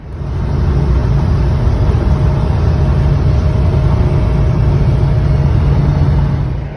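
A 48-year-old Lincoln Continental Mk IV cruising on the road gives off a steady, loud engine rumble that holds even throughout, with no voices over it.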